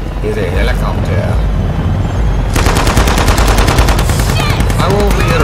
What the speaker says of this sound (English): Is a helicopter.